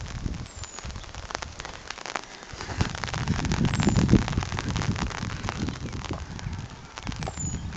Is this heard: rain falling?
yes